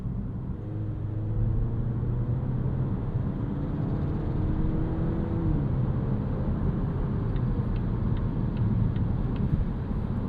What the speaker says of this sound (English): the actual machinery here, the engine and the transmission are very quiet and serene.